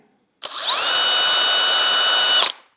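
A DeWalt DCD998 cordless hammer drill spinning at its top speed setting: a sharp start, a quick pitch climb, then a loud, steady high whine held for about two seconds before cutting off, heard alone up close.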